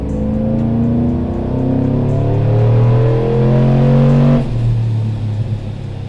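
A Procharger-supercharged, cammed 6.2L GMC Denali V8 pulls hard on a dyno in third gear, its loud engine note climbing steadily in pitch with boost building, then dropping off sharply as the throttle closes near the end.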